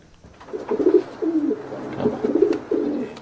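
A pigeon coos in a series of soft, low, rolling calls, about four phrases close together, heard alone and near with a faint background hum.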